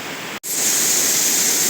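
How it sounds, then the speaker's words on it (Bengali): A waterfall at the top of the falls in the Ayodhya hills of Purulia gives a steady, full broadband roar that stays loud and constant. A brief cut interrupts it once near the start. "এটা হচ্ছে ঝর্ণার উপরটা"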